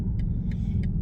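A 2023 BMW XM with a V8 engine rumbles low and steady on a highway, with three sharp exhaust pops spaced out across the drive.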